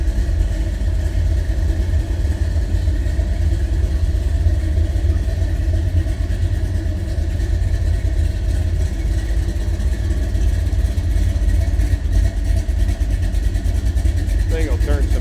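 A 1968 Chevrolet C10 pickup engine idling, a steady low close rumble that holds evenly for about fifteen seconds while someone talks over it.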